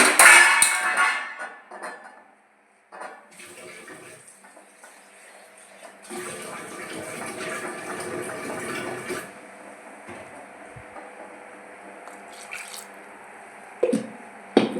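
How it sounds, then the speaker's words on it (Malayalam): Tap water runs while a mixer jar is rinsed, heard as splashing and trickling that starts and stops in several bursts, with a louder stretch of running water in the middle and faint clinks near the end. "ഞാൻ ജാറ് കഴുകിയിട്ട് കുറച്ച് വെള്ളം കൂടി ഒഴിക്കും"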